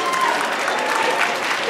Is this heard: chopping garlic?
no